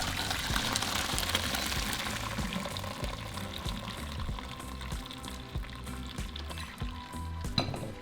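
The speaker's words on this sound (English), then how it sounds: "now I'm just going to remove it from our stove and drain the water" Hot water pours and splashes as a pot of cooked macaroni is drained, a steady watery rush with clattering knocks toward the end.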